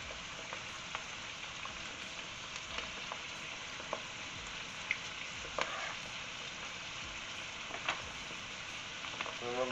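Food sizzles steadily in a pan for a Mediterranean lamb leg roast, a close, continuous fry with occasional stirring clicks and no talking.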